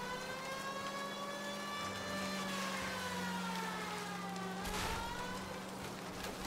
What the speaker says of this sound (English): Turn the siren off.